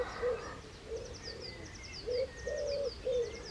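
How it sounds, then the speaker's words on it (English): A wood pigeon coos from a roadside verge with bluebells, soft rhythmic hooting phrases repeating at moderate distance, with high chirps from other birds scattered around it and no voices. "Listen to that big fat wood pigeon in the background."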